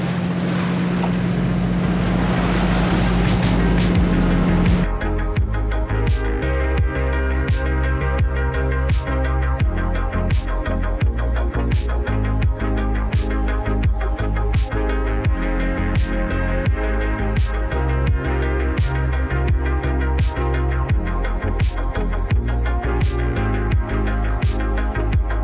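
A sailboat motor sailing at sea in light wind, a steady engine drone with wind and water noise throughout, opening with a louder wind-buffeted rush before settling into a rhythmic pulsing hum.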